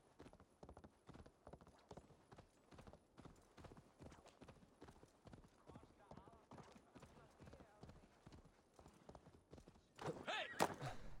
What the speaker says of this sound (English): you're going to jump on your horse,